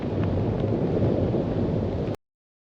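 Strong wind buffets the front microphone of a GoPro Hero 11 Black fitted with the Media Mod, out near a flag on a windy day. It is a loud, steady roaring rumble that cuts off abruptly after about two seconds.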